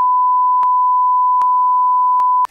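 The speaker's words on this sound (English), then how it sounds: "Bleep that bit out." A censor bleep masks a spoken phone number: a steady, loud tone runs through the whole stretch, ending abruptly, with faint clicks where the covered syllables fall.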